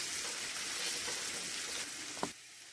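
Green chillies and chopped onions fry in a pan of hot oil with a steady close hiss and crackle, easing off near the end after a single sharp utensil knock.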